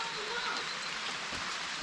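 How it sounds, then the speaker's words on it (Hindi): Steady, dense monsoon rain hissing continuously in the hills, an even wash of noise without breaks, moderately loud and enveloping. "ये बारिश रात से लगातार आ रही है"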